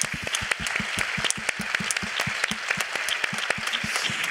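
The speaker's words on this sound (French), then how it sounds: "On peut tous les applaudir" Audience at a women's business forum applauding event partners, dense steady clapping from many hands filling the room, close and lively throughout.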